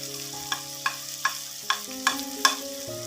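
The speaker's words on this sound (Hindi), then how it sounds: "इसको हम अच्छी तरह भून लेते हैं।" Spices frying in a pan with green chillies, salt, turmeric, kalonji and cumin, stirred in about six sharp scrapes at a steady rhythm over a constant sizzle, close and alone.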